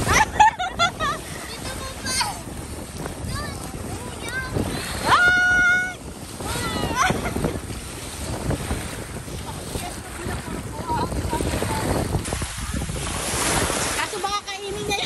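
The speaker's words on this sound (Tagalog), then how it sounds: "Dagat to, no?" Ocean waves wash on a beach amid wind buffeting the microphone, a continuous rushing surf with gusty noise, while people talk nearby.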